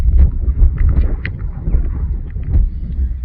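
Breezy wind blows outdoors on a dry day, buffeting the microphone in loud, rumbling gusts that rise and fall throughout.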